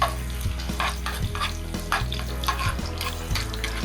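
Garlic sizzles and pops steadily in a preheated frying pan while a utensil stirs and scrapes through it in repeated strokes, close and fairly loud.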